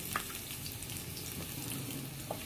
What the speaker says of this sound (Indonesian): setelah panas, bumbu-bumbu dimasukkan